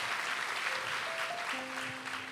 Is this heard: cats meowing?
no